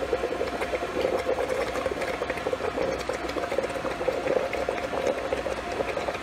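Steam and boiling water in a small distilled-water condenser, a steady bubbling, hissing rush held close and unbroken throughout, no talk.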